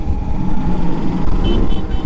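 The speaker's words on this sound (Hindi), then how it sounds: "गाइस कावासाकी के साथ इतनी कम ग्राउंड क्लियरेंस में ऑफ रोडिंग चल रही है।" A Kawasaki motorcycle with low ground clearance rides off-road over rough terrain in Uttarkashi, its engine a steady, loud, close rumble throughout.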